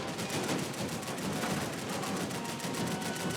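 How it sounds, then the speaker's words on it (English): Steady gunfire with bullets whizzing past in Max Payne 3, a continuous rattle of rapid shots throughout, fairly faint and without talk. "I can't concentrate with bullets whizzing past my head"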